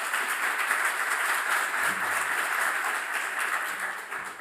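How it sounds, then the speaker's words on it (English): An audience in a lecture auditorium claps in a sustained, dense round of applause that stays loud and even throughout. "Give him applause"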